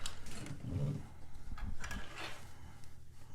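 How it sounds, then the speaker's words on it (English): Domestic sewing machine back stitching a bias facing at a garment shoulder line, giving a fast mechanical whirring and ticking close by, with brief bursts and pauses over a few seconds, no voices. "I'm going to back stitch right there to keep it secure"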